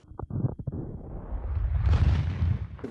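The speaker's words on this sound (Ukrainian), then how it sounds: "Далі перевіряли, чи витримають бліндажі справжні вибухи." A few dull thuds followed by a deep, rumbling explosion set off to test a dugout shelter, swelling and rolling on, heavy and low, with no talking.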